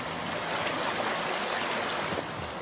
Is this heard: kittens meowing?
no